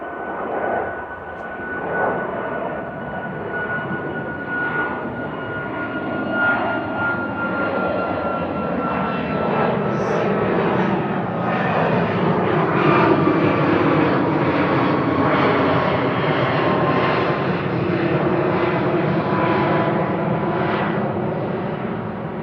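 A Ryanair jet operated by Malta Air departs Manchester Airport for Berlin, a sustained engine roar with a thin whine that swells and shifts in pitch as it passes, moderately near.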